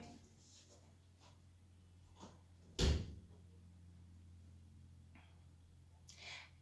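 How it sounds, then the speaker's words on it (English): A door at home pulled shut, one solid thud partway through, fairly close and louder than the quiet room tone, followed by a faint knock near the end. "Please close the door properly"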